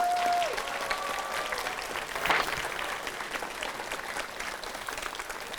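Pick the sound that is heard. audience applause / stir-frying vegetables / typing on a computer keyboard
audience applause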